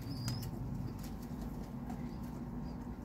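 A young male kolong racing pigeon cooing and flapping its wings near another bird, with brief wing flutters and soft low coos over a steady murmur, close and moderately quiet.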